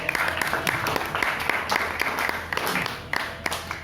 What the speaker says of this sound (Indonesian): Tepuk tangan buat Mas Sigit.